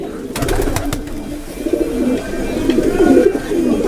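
Pigeons coo close by at a pigeon festival in Lefkovrysi, Kozani, low throaty repeated calls overlapping, with a few sharp clicks and light background noise.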